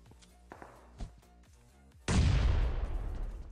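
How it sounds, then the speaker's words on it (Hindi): In Battlegrounds Mobile, a cooked grenade is thrown: a few soft thuds and clicks, then a loud, sudden blast that rumbles on and slowly fades. "तो देखो ग्रेनेड कुक करके डालते हैं।"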